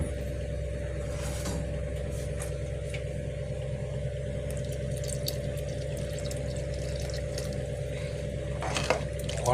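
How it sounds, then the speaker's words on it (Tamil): Water is poured into a thickened ridge gourd sambar as it cooks in a pot. A soft, continuous splash of liquid sits over a steady low kitchen hum, with a few light clinks near the end. "கொஞ்சம் தண்ணி ஊற்றிக்கலாம்."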